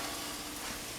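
Bacon sizzling steadily in a pan on an electric stove over medium-high heat, a dense, even crackle with no voices.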